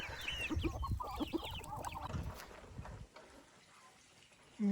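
Chickens cluck and call close by in a rural hillside village. Several overlapping clucks fill the first few seconds over a soft outdoor background, then it thins out to quieter ambience.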